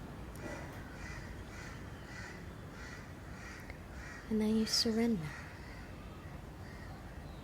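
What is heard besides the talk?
crows cawing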